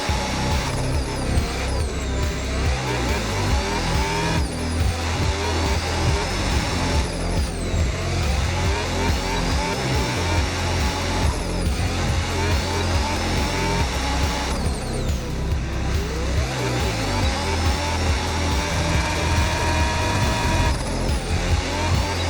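Formula 1 cars roaring through a qualifying session at the Canadian circuit in a racing video game, engines loud and constant, with repeated rising revs and sharp drops at each gear change.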